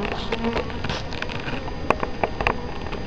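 A dense, steady buzz of many honeybees close by at a feeder with floaters, with a few sharp clicks and taps breaking through near the end.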